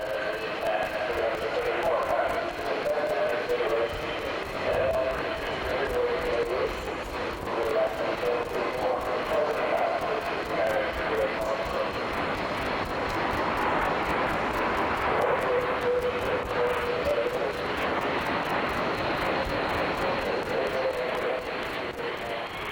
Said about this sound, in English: the extremely adaptable A330 flies both long-haul to the Far East and also medium-range